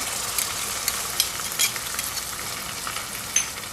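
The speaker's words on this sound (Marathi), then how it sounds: "कांदा हा व्यवस्थित असा भाजला गेला पाहिजे" Chopped onion fries and sizzles in a pan for Malvani-style egg curry, a steady close crackle with occasional scraping stirs and small pops, with no voices.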